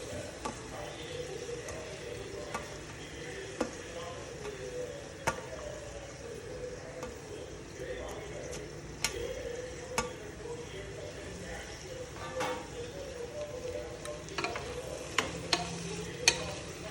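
Three medium onions frying in a pan over a medium-high flame make a steady, even sizzle, with faint clicks and occasional stirring scrapes throughout and no voice over it.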